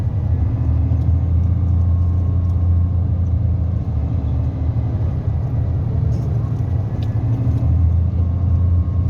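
A car engine held in fourth gear down a long 3 km mountain road, a loud, steady low rumble and drone inside the cabin that never lets up.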